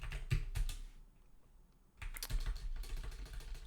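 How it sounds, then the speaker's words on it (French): Bursts of quick, close keyboard typing as commands are entered on a computer, a brief pause near the middle, then the clatter resumes more densely. "si je tape les commandes dans le bon ordre."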